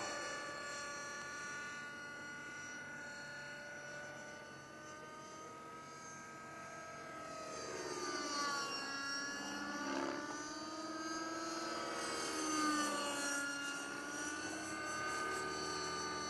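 A T-REX 600 radio-controlled model helicopter makes a flying pass, its high rotor and motor whine steady at first, then swelling and shifting pitch as it sweeps nearer and away twice, heard outdoors with no talking.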